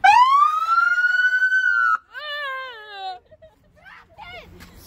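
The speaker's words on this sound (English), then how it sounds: "Now get ready, because the siren comes out" A loud police car siren wail rises and holds, followed by shorter falling wails and a few scattered noises, close and clear.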